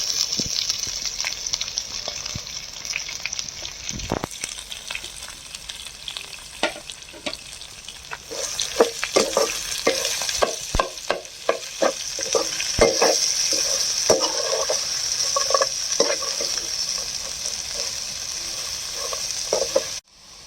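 Chopped onions and green chillies hit a hot pan for Mysore masala dosa filling, a bright continuous sizzle with a clatter of scraping and stirring strokes that thicken midway, close up with no voices.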